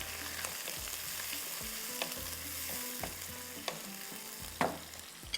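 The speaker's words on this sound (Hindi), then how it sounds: "अब इसके अंदर जाएंगे ये प्याज" Onions frying in a hot pan, a loud continuous sizzle close up with periodic scraping stirs and a few sharp knocks of the spoon, no voices.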